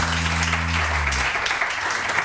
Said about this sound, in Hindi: इन लोगों के लिए बहुत सारी तालियां जी, बहुत सारी तालियां